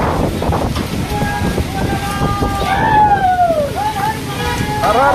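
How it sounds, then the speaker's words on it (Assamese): Steady blustery wind roaring across the microphone in Kaziranga, Assam, with a few sliding whistle-like tones and faint voices partly buried in the gusts. "বেলেগ বতাহ মাৰিছে দেই"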